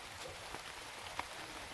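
Steady rain falling on a surface outdoors, a soft continuous hiss with a few faint drips, heard alone with no voices.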